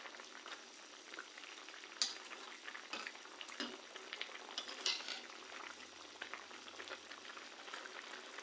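Catla fish curry fries in a pan while being stirred, a soft steady sizzle broken by a few sharp scraping clinks of the spoon against the pan.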